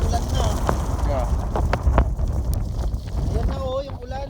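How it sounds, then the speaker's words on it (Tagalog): Strong wind gusts roar along the Bued River in Sison, Pangasinan, during a sandstorm, a steady broadband rush filling the whole stretch, with voices briefly audible near the end. "And the wind is so strong."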